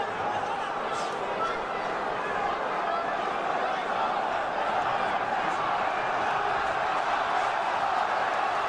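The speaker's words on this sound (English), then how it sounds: "the crowd in Sheffield beginning to rally behind Khan" Arena crowd at a Sheffield boxing match between Amir Khan and Julio Diaz, a steady, dense roar of cheering and chatter that holds at an even level throughout.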